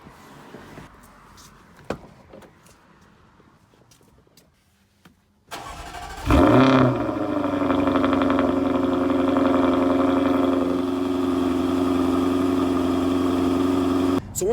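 A Jaguar F-Type R with an 8-speed ZF automatic fires up with a loud, sudden bark and then settles into a steady, deep engine note heard from nearby. Quiet rustling comes before the start.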